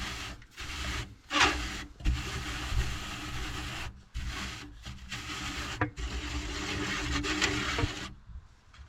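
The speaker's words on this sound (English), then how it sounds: "grind the chaffy material on the surface of the screen and make sure that all of the seed is released from the chaff" Chaffy seed material is ground by hand against the surface of a seed cleaning screen, producing a steady, close rasping rub in repeated strokes broken by brief pauses.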